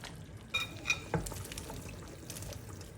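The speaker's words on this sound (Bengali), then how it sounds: "ঝোলটা টক বক করে ফুটে উঠলে এর মধ্যে আমি এখন টমেটোগুলি দিয়ে দেবো" Sliced green tomatoes dropped into a simmering fish and potato curry, a few soft splashes and clinks followed by a quiet bubbling simmer, close and faint with no talk.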